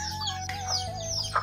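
A rooster that is about to be taken to market for sale gives a few short clucks against a steady low background hum, with a brief louder call near the end.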